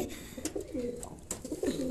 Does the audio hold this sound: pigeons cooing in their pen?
yes